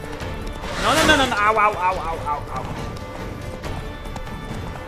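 Horse galloping in a video game, a quick rhythmic clip-clop under excited French talk, with a loud burst near the start easing into steadier hoofbeats.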